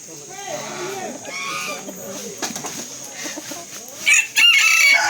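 Large chicken crowing and clucking nearby in a mountain setting, with repeated rooster calls and a louder burst near the end over a steady high background drone, and someone talking in between.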